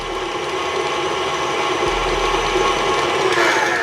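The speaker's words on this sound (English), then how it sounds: "over the sound of my mixer." An electric mixer churns cookie dough in a steady, loud, close mechanical whir with a grinding, gear-like texture and no break throughout.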